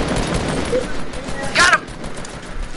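Minigun firing rapid continuous bursts in a video game, close and fairly loud, with a sharper crack partway through and a voice speaking over it.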